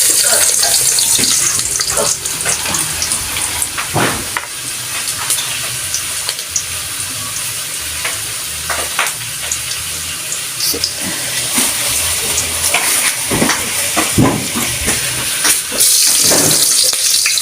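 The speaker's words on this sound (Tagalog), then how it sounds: "ngayon, ay, mainit naman yung mantika. O, unahin natin tong ahos" Garlic frying in hot cooking oil for an odong noodle dish, giving a steady broadband sizzle and hiss with scattered clinks and stirring clatter throughout, with no talk.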